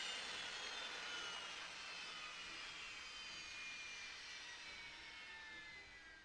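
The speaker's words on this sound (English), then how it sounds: "So this is the M1 Abrams engine when it's on standby." An M1 Abrams tank's turbine engine whines steadily on standby in the video game War Thunder, its high-pitched tone slowly sinking and the sound easing off slightly toward the end.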